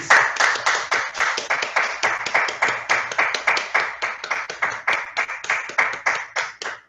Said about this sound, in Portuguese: eu peço para que todos os presentes aplaudam o Francisco pela sua nova obra